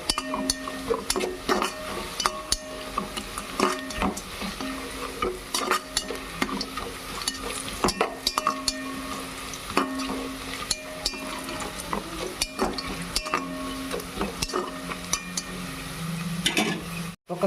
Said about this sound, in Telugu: కొన్ని జీడిపప్పు, కొంచెం వాటిని కూడా ఫ్రై చేసుకుందాం బాగా.